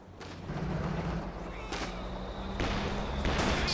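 A grenade goes off in the Company of Heroes 2 battle, heard as sharp, fairly loud booms among several distinct bangs across a steady battlefield rumble, with a commentator's voice partly underneath.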